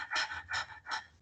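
A person imitates the rapid, shallow panting breath of a dog, like a hyperventilating patient: three quick, breathy huffs in an even rhythm, close and fairly soft.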